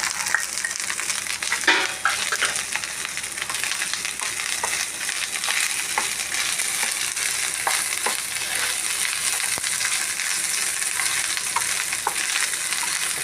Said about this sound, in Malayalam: ഈ കൂട്ട് നന്നായിട്ട് ഫ്രൈ ആവണം.